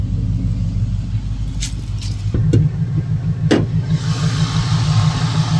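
A supercharged Ford SVT Cobra V8 in a four-door build idles nearby with a steady deep, lumpy rumble, plus a few faint clicks and a rising hiss near the end.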